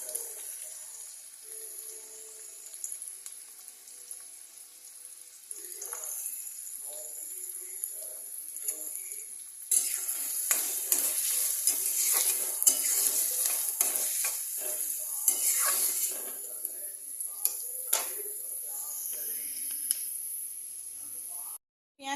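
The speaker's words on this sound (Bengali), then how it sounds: "পেঁয়াজটা ভাজা হয়ে গেছে" Onions with chopped garlic and ginger fry in a pan, starting as a quiet sizzle with occasional stirring clatter, then a louder, denser hiss midway before easing off, with no one speaking over it.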